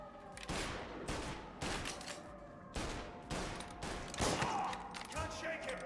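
Gunfire erupts in the video game Mafia: Definitive Edition, several sharp bursts of shots in quick succession, some rapid and rattling, sounding fairly faint overall with brief gaps between volleys.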